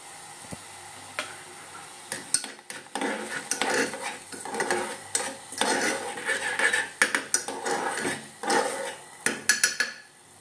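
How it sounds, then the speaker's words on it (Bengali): Vegetables stirred gently in hot ghee in a pan for a baby's porridge, with a spoon scraping and clinking against the metal at an irregular pace over a soft, steady sizzle, close by. "সব সবজিগুলোই ঘির ওপরে দিয়ে দিয়েছিলাম, যাতে লেগে না যায়, তার জন্য আলতো আলতো করে নেড়ে নিচ্ছিলাম"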